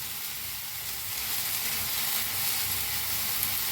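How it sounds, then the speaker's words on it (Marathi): Fresh coriander with its stems sizzles steadily as it roasts in a pan alongside tomatoes on the gas, a constant hiss of frying that swells slightly partway through, with no voices. "हलवून दोन्ही भाजून घेऊया।"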